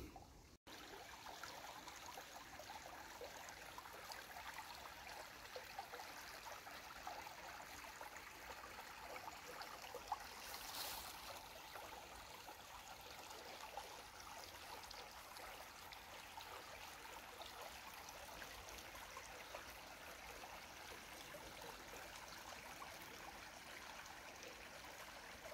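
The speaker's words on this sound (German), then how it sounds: "Ja, dieses Plätschern, das liebe ich." Babbling stream of water outdoors in nature, a steady, faint trickling and splashing that continues evenly throughout with no talk.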